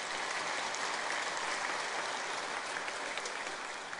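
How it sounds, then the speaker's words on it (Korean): A church congregation gives the choir a dense, steady round of applause that fills the sanctuary evenly and holds at a constant level throughout. "잘했다고 싶으면 박수 한 번 더 해줘요."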